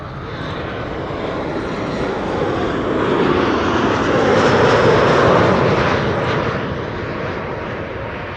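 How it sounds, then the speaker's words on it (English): An Airbus A300-600 jet takes off from Amsterdam Schiphol, its engines a broad, steady roar that swells to a peak midway and then eases slightly, heard from beside the runway with no talking. "the A300-600 Banana is taking off to Leipzig"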